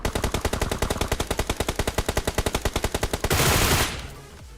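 Rapid automatic gunfire from a battle royale video game: a steady burst of about thirty evenly spaced shots over three seconds, then a louder dense blast that fades out.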